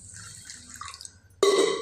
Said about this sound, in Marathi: हे आपण दोन पाण्याने धुवून घेऊया